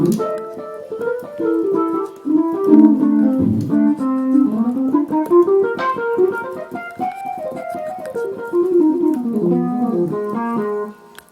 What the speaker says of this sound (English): now let's take a look to the let's say electric piano